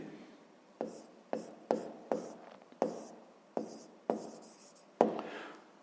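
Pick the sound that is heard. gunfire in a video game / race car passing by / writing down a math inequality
writing down a math inequality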